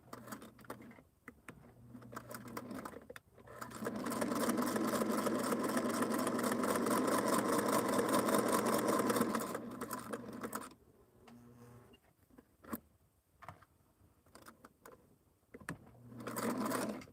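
Sewing machine stitching fabric for a quilted Halloween hexagon table topper, a close steady whirring run of several seconds framed by short starts, stops and handling clicks.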